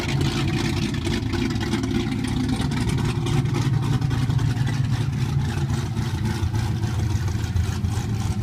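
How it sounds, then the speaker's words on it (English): Car engine with its twin exhaust cutouts opened ahead of the mufflers, giving a loud, steady, deep idle rumble that holds unbroken throughout, close by and with no talking. "In the video, you can hear it with the exhaust open, and then I close it, and it's just completely different."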